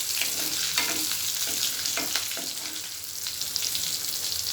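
Tomato pickle with small onions fries in hot oil, giving a steady close sizzle with soft stirring scrapes throughout and no talking.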